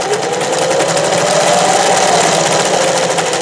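A vintage sewing machine stitches scallops in a steady, loud mechanical whir with a rapid needle rhythm, running close and alone without talk.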